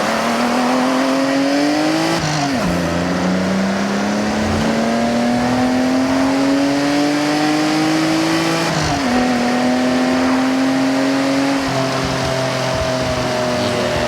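Car in Forza Horizon 6 accelerating hard through the gears, engine pitch climbing in long sweeps with two clear drops at shift points, loud and close, running alone without speech.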